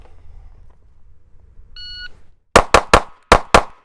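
A SIG P365 9mm pistol fires five sharp, loud shots in a fast, slightly uneven string, preceded by a short electronic timer beep after a quiet pause, with no talking.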